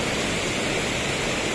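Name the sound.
fast-flowing flooded river in heavy rain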